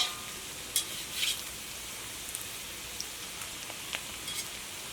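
An egg and wheat flour snack fries in hot oil with a continuous even sizzle, close and steady, with occasional light pops and a soft clink.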